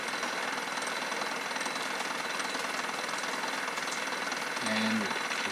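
A Bedini SSG motor on a single-battery setup runs as it slows down, a steady buzzing, rattling hum heard close and alone, with a faint low thump near the end.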